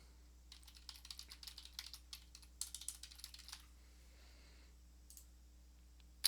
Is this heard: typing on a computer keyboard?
yes